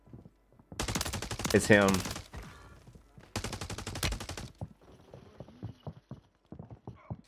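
Gunfire and crossbow shots aimed at the player in Warzone 3, with loud bursts of shots and impacts in two clusters followed by sharper scattered hits, while a voice speaks briefly.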